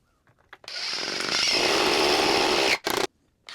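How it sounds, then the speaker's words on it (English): Power driver running 3-inch jamb screws into a door jamb while installing a smart deadbolt: a loud, steady whirring burst of about two seconds, then a short second spurt, close by with no talk. "And then we'll run the 3-inch jam screws."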